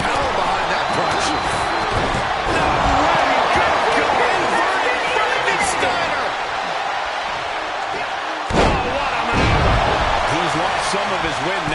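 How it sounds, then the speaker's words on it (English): A single sharp punch impact lands in the WWE 2K24 wrestling game, heard as one brief thud over a constant roaring arena crowd, while a commentator talks. "There's some power behind that punch."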